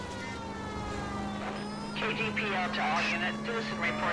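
A police car siren in the L.A. Noire video game wails in rising and falling tones, starting midway over the steady hum of game audio, with chatter and background noise mixed underneath.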